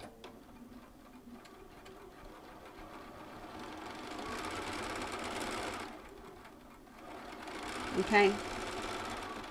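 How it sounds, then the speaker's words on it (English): Bernina sewing machine running steadily as it stitches, a continuous mechanical whir lasting throughout and swelling midway, with a brief louder clack near the end; someone speaks briefly over it. "So you can see this time it doesn't stop sewing when I'm sewing."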